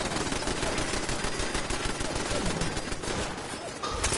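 Gunfire in Fallout 4 rattles as a dense, continuous stream of rapid shots, loud and close, with a brief dip near the end before firing resumes.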